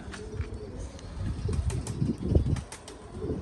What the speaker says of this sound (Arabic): هسه هاي طاير ويا الطيور